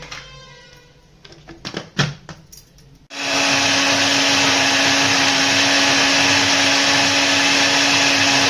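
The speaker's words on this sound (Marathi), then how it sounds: "आणि मिक्सरला फिरून घ्यायचं" A kitchen mixer grinder blends jamun with ice cubes, salt and spices: after a few seconds of light clinking and handling, the motor starts abruptly and runs loud and steady at a constant whine to the end.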